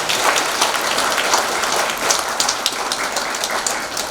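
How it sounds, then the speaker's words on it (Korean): An audience at a talk on the causes of heart disease claps on request, giving a loud, dense patter of many hands with small bursts and no speech over it. "이해하셨으면 박수 한번 쳐보세요"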